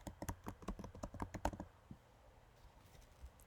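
Quick, crisp keystrokes on a computer keyboard patter in an irregular burst for about a second and a half, then thin out to a couple of faint taps, close and quiet with no voices.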